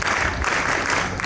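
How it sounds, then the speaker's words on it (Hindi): A short burst of audience clapping at a school annual function, dense applause from many hands held at a steady level throughout. "Count, clap, go!"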